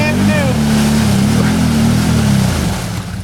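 A Can-Am ATV revs while churning through a water-filled hole. The engine drone is loud and close, rising and holding with a splashing, wash-like noise before it fades out.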